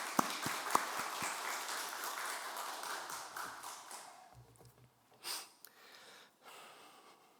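A church congregation gives a blessing round of applause for two young people after their worship singing; the quiet, dense clapping carries for about four seconds, then dies away into a hushed room with a few faint stray sounds.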